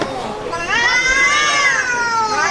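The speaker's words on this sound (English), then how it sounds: "Are those cats? Yeah. Yep. What are they doing? They're Fighting." Cats fight in a video played back in the room: a long, rising and falling caterwaul with strained, wavering yowls. It is loud and steady and heard over faint background noise.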